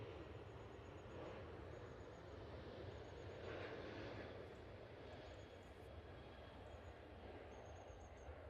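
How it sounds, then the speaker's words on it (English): A Ryanair Boeing 737-800 airliner rolls for takeoff at Manchester Airport, heard from a distance as a steady, broad jet roar that swells slightly, with no talking over it. "We've got Ryanair 737-800 on the roll."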